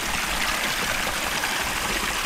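Steady broadband rush of water flowing at a water source while fishing for mudfish, continuous and fairly close, with no voices over it.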